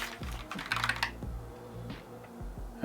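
Typing on a Keychron K1 low profile mechanical keyboard, close-up, with quick bursts of clacky keystrokes and a few louder spacebar-like thocks spaced irregularly throughout, without talking.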